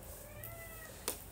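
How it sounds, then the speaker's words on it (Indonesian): An indoor cat meows once in a drawn-out, wavering call that is clear and near. A sharp short noise follows it. "berisik ya nih kucing, bener deh"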